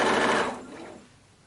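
A sewing machine stitching through a quilt, a loud close whirring burst at the start that quickly fades and trails off within about a second.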